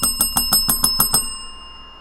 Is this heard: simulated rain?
no